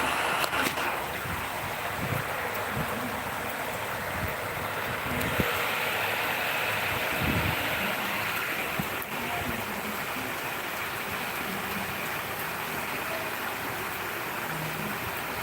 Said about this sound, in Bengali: অজোরে বৃষ্টি নামছে বৃষ্টি আর বৃষ্টি সারাদিন বৃষ্টি